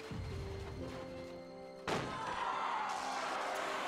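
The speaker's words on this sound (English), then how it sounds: "Well, there goes the explosion like it's supposed to." An explosion goes off in Back to the Future: The Game. A sudden heavy boom cuts through a sustained musical background, and its broad rumbling wash lingers afterward with no talking.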